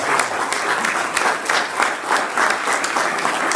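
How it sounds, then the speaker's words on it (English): An audience applauds veterans at a real estate market update event, dense continuous clapping from a crowd at a steady level, loud and close with no talking. "Everybody give them the real round of applause"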